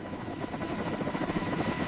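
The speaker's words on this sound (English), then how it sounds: "Above, 3 helicopters hold position with millimeter precision, forming a triangle of lifting power." Three helicopters hovering in formation while lifting a salvaged submarine on steel cables, a steady, loud rotor thrum with rapid blade chop and engine drone, unbroken and close.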